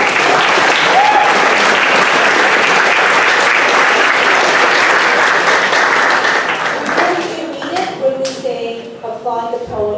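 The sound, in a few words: audience applause for spoken word poets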